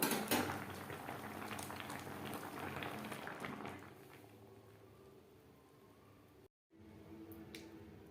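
Homemade tomato sauce simmering in a pan on a gas stove, soft steady bubbling and faint popping, quiet and close, with a few small clicks near the end.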